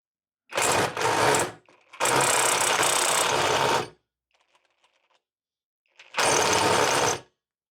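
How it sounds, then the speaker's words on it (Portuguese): A Tecepo 21V cordless impact wrench drives a screw using an anti-torsion impact bit, sounding in three loud, close bursts of rapid hammering rattle separated by near-silent pauses. "Mas aqui a intenção realmente é testar o poder da chave de impacto."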